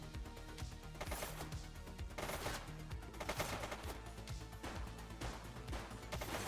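Dense, continuous automatic gunfire from a police video game set in The Precinct, rapid bursts rattling steadily throughout at moderate level with no pauses or voices.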